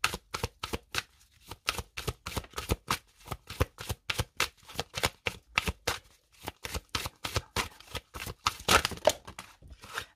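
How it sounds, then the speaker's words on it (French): Oracle cards are shuffled and dealt out for a five-card spread, giving a quick, rhythmic series of crisp flicks and soft slaps, close by and alone, with short pauses between bursts. "Allez, on continue avec un oracle et on va poser 5 cartes."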